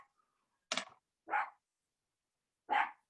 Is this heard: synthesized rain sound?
no